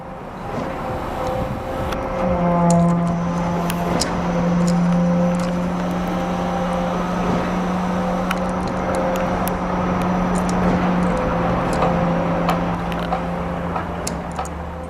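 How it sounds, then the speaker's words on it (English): A concrete mixing truck's diesel engine drones steadily with a low hum and rattling mechanical clatter, a constant close running sound over background music. "Concrete mixing truck."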